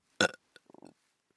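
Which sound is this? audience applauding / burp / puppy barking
burp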